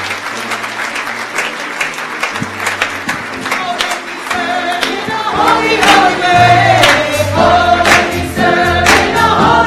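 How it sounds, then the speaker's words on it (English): A seated audience gives a sustained round of applause at a peace-themed gathering, dense clapping building and swelling louder over about ten seconds, with scattered voices and some background music beneath. "if we could just have a round of applause for everyone"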